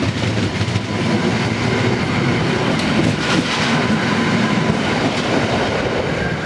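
A train rumbles along the tracks in Gdańsk, a loud, steady rolling noise close by with a faint metallic rattle and no talking.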